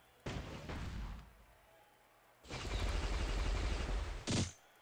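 A Proto Bomb detonates in a John Cena-themed video game, giving two bursts of crackling blast noise split by a short lull and ending in a sharp final bang.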